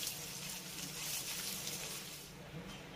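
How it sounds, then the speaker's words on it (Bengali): Grated ginger and chopped green chillies fry lightly in a pan, a steady, bright, hissing sizzle that stays close and even throughout, easing slightly near the end, with no talking. "আর একই সঙ্গে দিয়ে দেব 2টো কাঁচা লঙ্কা কুচি। হালকা করে একটু ভেজে নেব।"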